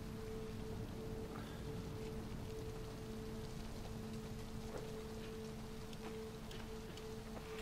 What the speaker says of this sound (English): Just got out of the rain.